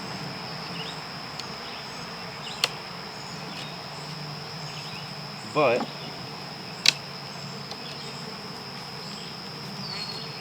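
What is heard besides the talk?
honeybees buzzing around beehive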